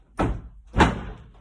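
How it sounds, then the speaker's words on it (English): Two heavy thuds of a sticking door being slammed shut indoors, close and loud, about half a second apart with no talking. "my door is kind of stuck, so I have to slam it a little."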